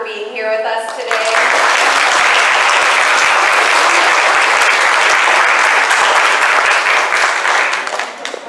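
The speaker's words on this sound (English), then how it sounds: "can we do one more round of applause to thank Ron and Scott for being here with u" A church congregation bursts into a full, sustained round of applause that fills most of the stretch, loud and dense, following a brief spoken line at the start.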